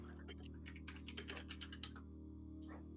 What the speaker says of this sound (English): Clackety clackety, Shy.